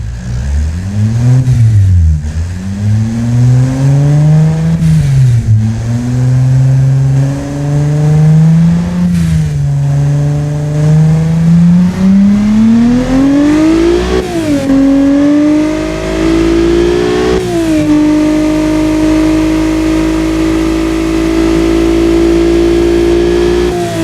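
Honda C30A V6 engine from the NSX, fitted with titanium connecting rods, running in the Automation car-building game. It idles smoothly, then revs in a series of rising, falling sweeps that climb to a steady higher pitch. The sound is loud and close, with no talking.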